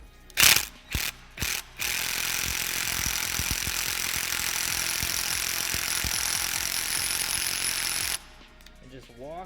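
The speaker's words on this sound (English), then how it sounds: "Grab an impact of some sort." An impact wrench running a lug nut onto a Toyota Corolla TE72 wheel stud, a few short bursts of rapid ratcheting hammering followed by a long, loud, continuous buzzing run that stops abruptly near the end.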